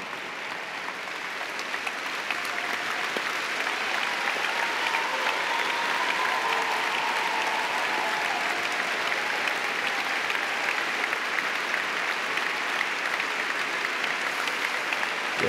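A large audience at a conference in Biel applauds steadily and loudly for the whole stretch, with a dense, continuous clapping texture and no pauses.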